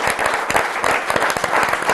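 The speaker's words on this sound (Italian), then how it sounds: "Anna Cavallaro, un applauso a Anna." An audience at a sports federation presentation applauds a young equestrian vaulter, a brief, dense round of close clapping with no speech over it.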